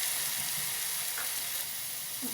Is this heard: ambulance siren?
no